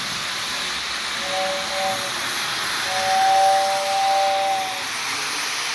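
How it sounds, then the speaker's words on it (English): Two toots of a Lionel 2055 model steam locomotive whistle, a short one then a longer one, sound as thin tonal blasts over a steady hiss of running model train noise. "That's a nice whistle."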